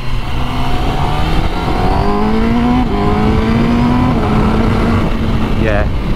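Honda CBR1000RR-R Fireblade SP with a 999.9cc inline four-cylinder engine accelerates hard, rising engine tones stepping through smooth quick-shifter gear changes, loud and close with strong wind rush throughout.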